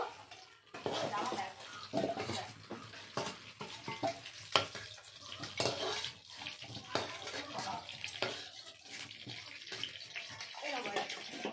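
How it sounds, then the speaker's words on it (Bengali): Potatoes frying in mustard oil in a pan, stirred with a utensil, giving a steady sizzle with scraping and clinking throughout. "ভালো করে নেড়ে চেড়ে নেব। আলুগুলো ভেজে নিয়েছি"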